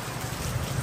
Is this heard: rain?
yes